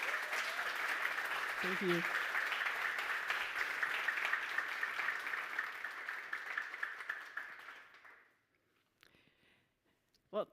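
A conference audience applauds a speaker onto the centre stage, with steady clapping for about eight seconds that fades out. A brief spoken thank-you and a few small noises follow.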